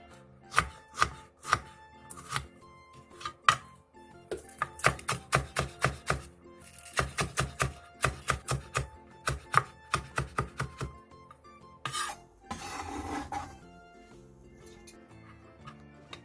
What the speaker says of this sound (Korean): 청양고추 2개와 홍고추 1개, 실파 1개를 쫑쫑 썰어주세요.